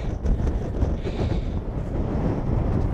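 Strong storm wind buffets the microphone on an exposed hillside while wild camping, a continuous loud roaring rumble with gusty surges and no let-up.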